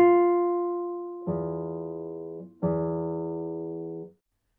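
Three plucked guitar chords, each ringing out and slowly decaying, the later two struck with a low open bass note beneath, played alone.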